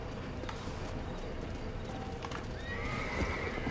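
A horse neighs and whinnies over the clatter of hooves in Red Dead Redemption, with a steady game ambience beneath and bird calls in the background.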